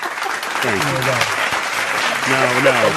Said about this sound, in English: Eddie, do you have a round of applause you could play, please?